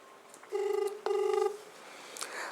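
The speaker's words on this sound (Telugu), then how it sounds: "మరి వాళ్ళు లైవ్లో ఫోన్ చేస్తున్నాం, వాళ్ళు రిసీవ్ చేసుకుంటారా?" An outgoing phone call during a live broadcast rings back twice, a steady electronic tone in two bursts heard faintly over a low hiss, without talk.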